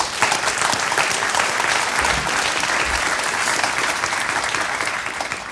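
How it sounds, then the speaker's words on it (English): A large conference audience at a GraphQL tech talk breaks into loud, continuous applause that holds steady for several seconds, dense and even with no voices standing out. "I would just like to show some love to all the open source maintainers in the GraphQL community with a big round of applause."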